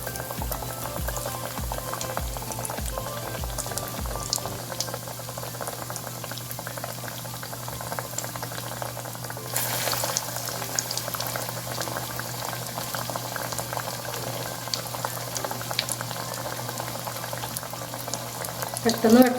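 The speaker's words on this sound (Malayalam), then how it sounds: "എണ്ണ നല്ലോണം ചൂടായിട്ട് ഫ്രൈ ചെയ്തെടുക്കുക." Cutlets dipped in egg and coated in breadcrumbs bubble and sizzle steadily in hot oil, a continuous close frying hiss with occasional stirring, no talking.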